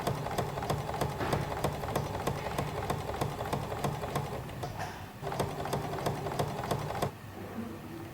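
A sewing machine stitches a fly front zip seam, its steady rapid needle clatter running close and loud without pause, then easing off and changing briefly near the end.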